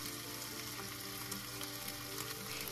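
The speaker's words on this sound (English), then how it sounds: "And continue to stir fry until the color of the beef looks even." Beef stir-frying in a wok with rice wine, oyster sauce and dark soy sauce, a loud, dense and steady sizzle with constant crackle and no speech.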